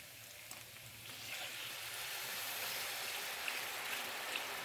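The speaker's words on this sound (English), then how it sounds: "Now I'm going to add beef broth." Beef broth poured into a hot pan sizzles and hisses steadily, a broad bubbling frying sound that builds slightly and holds, close and moderately loud with no talking.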